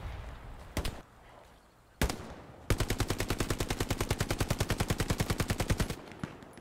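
Gunfire in the World War II shooter Hell Let Loose: two isolated loud shots, then a long rapid burst of automatic fire with evenly spaced cracks lasting several seconds, heard alone.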